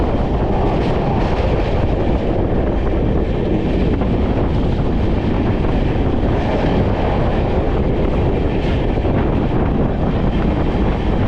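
The 13175 Kanchenjunga Express runs from Howrah toward Tarapith, giving a loud, continuous rumble of wheels and carriages with rushing wind noise throughout, no voices heard.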